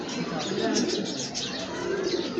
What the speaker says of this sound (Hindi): ये हमारे पास बहुत ही नायाब का मगर कबूतर है